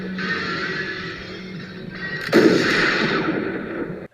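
Gunfire from the 1982 film Blade Runner as Deckard shoots a fleeing replicant on foot: a single heavy, booming shot cuts through a steady background hum and rings out loud before fading, with no talking.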